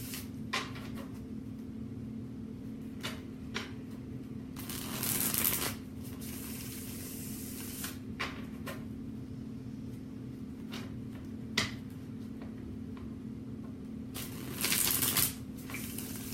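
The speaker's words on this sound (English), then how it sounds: "Shuffle this a couple more times." A tarot deck being shuffled by hand, with soft riffling bursts of cards at intervals and small clicks and taps between them, close and fairly quiet over a steady low hum, no talking.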